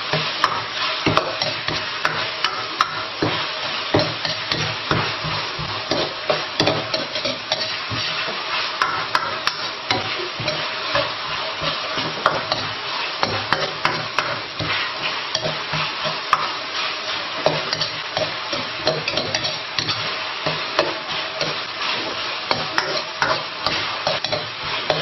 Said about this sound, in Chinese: 把辣椒的辣味也炒出来